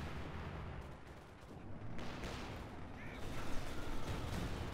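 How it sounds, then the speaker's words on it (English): Aerial strafing run in the Company of Heroes 2 game, a dense rolling wash of gunfire and distant blasts that swells louder toward the end, with faint talk underneath. "Come on, strafing run."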